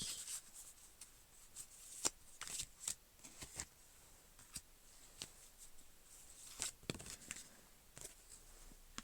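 Calypso oracle cards being shuffled by hand, soft quiet riffling and rubbing with irregular sharp flicks and taps, close and alone.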